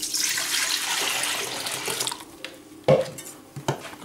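A mixture of warm milk and water pours with a rushing splash for a couple of seconds, then stops, followed by a few clinks and knocks of a utensil against a container.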